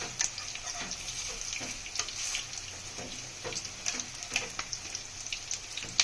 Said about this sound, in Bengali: একটু লাল লাল করে ভেজে নিন